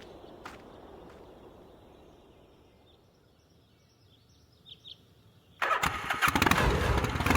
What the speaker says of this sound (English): Totally wouldn't hear a motorcycle pulling up.